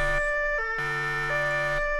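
An electronic alarm siren sound effect played in a tabletop role-playing session, with a loud two-tone wail switching between pitches in a steady pattern and no talk over it.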